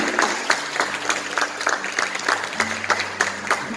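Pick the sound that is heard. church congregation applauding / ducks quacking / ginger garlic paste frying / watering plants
church congregation applauding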